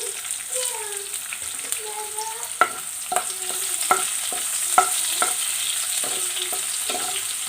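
Half an onion sizzles steadily in a pan with oil and curry leaves for rava upma. A spoon stirs and scrapes against the pan several times over the quiet frying.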